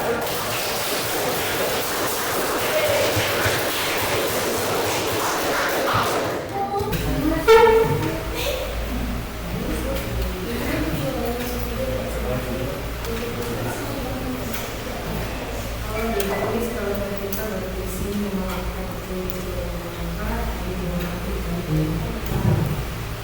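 An audience in a classroom session claps in a dense, steady burst of applause for several seconds, then it fades as a voice begins talking.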